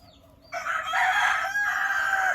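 A Darag native rooster crows loudly and close, a single drawn-out call rising over faint farmyard background noise.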